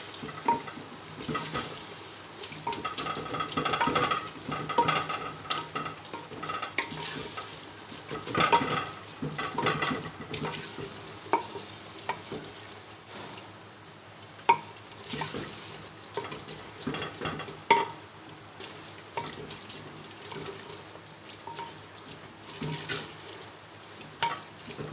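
Lahori chickpeas sizzle in a pan while a spoon stirs them, a soft, steady frying crackle with scraping strokes and occasional clinks running throughout.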